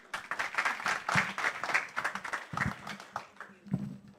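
A crowd claps for a few seconds, uneven individual hand claps standing out within the applause, moderately loud and close.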